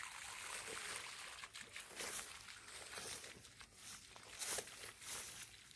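Water poured from a hose or container onto the base of a one-year-old durian tree in the dry season, a steady splashing trickle into soil that runs for several seconds and swells and fades slightly.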